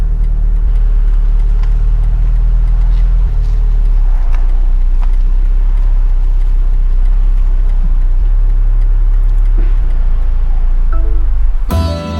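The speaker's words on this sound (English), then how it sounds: "Car's parking itself" A 2023 BMW Z4 sDrive30i parks itself, giving a steady low engine hum and road-vehicle rumble heard from inside or near the car. It holds evenly for about twelve seconds, then ends with a brief shift.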